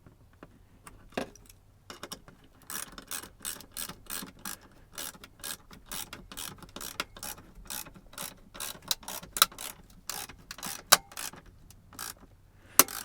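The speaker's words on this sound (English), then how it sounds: "as the plastic lifts up, these push pins kind of resist it, and you get a little popping sound as it pops back into position" Small plastic push pins popping and clicking as they seat into a plastic dash cover on a 1999 GM OBS truck. The sharp snaps come in an irregular series, close and fairly quiet, with no talking.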